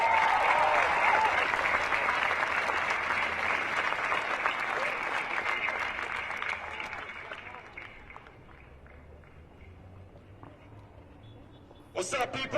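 A crowd at a street protest in Denver claps for an incoming speaker, loud applause at first that fades over several seconds to scattered claps and low crowd murmur, then a brief burst of noise at the end.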